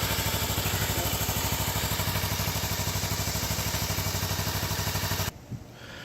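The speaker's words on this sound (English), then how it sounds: "I turned off the bike. It's already been running for about 5 minutes, maybe a little bit longer." A Kawasaki Ninja 300 motorcycle engine idles close by with a steady, even low pulse while it warms up before an oil change, then cuts off abruptly near the end, leaving quiet.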